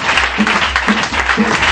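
A church congregation applauds and acclaims the pastors, steady dense clapping from a crowd in a room, loud and continuous, with voices mixed into the applause.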